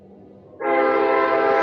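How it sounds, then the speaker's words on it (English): A train horn sounds as a train arrives, a loud sustained blast that bursts in suddenly and holds steady to the end, with a faint low rumble beforehand and no talk over it. "The train's here, guys. The train's here."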